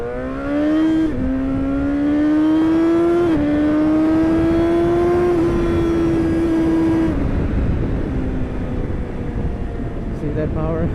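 A motorcycle engine, heard up close and loud, revs up in a few rising steps and holds high before dropping back toward idle, with a strong buzzing roar throughout.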